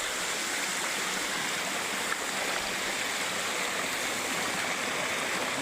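Flowing stream water rushes steadily and evenly, a dense continuous wash with no voices, unchanged from start to finish.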